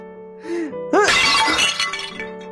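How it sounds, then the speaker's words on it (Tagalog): A flower vase shatters indoors with a loud, sudden crash at about one second, bright fragments scattering and ringing for over a second, heard over steady background music. "Nabasag mo yung flower vase."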